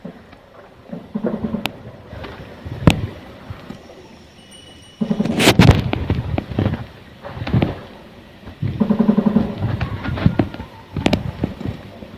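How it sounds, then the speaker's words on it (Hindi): Cross-border firing by Pakistan Rangers sounds as scattered loud cracks and booming reports that echo outdoors over a rumbling background, arriving in irregular clusters with no voices. "पाकिस्तान की तरफ से जो फायरिंग की गई थी पाक रेंजर्स की जानिब से"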